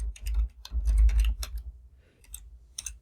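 Rapid keystrokes on a computer keyboard while HTML and CSS code is being written, coming in short irregular bursts of close, crisp clicks with brief pauses between runs.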